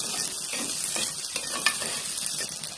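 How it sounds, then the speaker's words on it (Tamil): Small onions and cinnamon sautéing in a pan for a snake gourd curry, with a steady close sizzle and scattered scrapes of a spoon stirring throughout. "எல்லாத்தையும் நல்லா வதக்கி விட்டுக்கோங்க"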